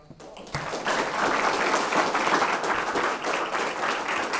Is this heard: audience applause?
yes